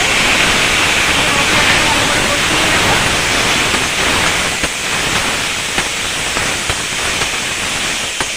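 Steady loud hiss and rushing sizzle as water meets a Kashmiri chilli and green chilli spice mixture in a hot pan for a bitter gourd and potato curry, with faint clinks throughout.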